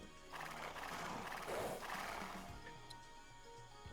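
A horse whinnies loudly while hooves clop beneath it in Age of Empires II, with faint game background ambience.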